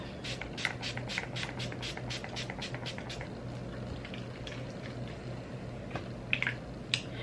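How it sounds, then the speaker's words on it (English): A setting spray mist is spritzed across a face in a series of quick, close hissing bursts, with a few more scattered puffs near the end over a steady low background hum. "this is the only setting spray I use anyway. So I'm about to set my face"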